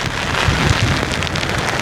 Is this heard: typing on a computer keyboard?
no